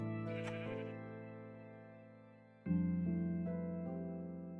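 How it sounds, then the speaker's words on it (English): A sheep in the video game Minecraft bleats twice in loud, close, drawn-out calls, each fading slowly, with no speech. "Is it just me, or is there just one sheep here?"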